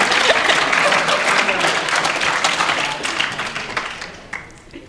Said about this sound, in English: Now everybody claps and laughs